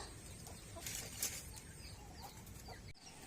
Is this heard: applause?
no